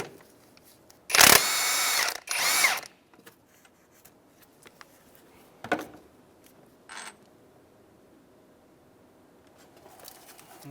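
A power tool, likely an impact wrench, runs in two loud bursts on the 17mm transmission bracket bolts of a 2007-2015 Mazda CX-9, with quieter clicks and handling noises in between.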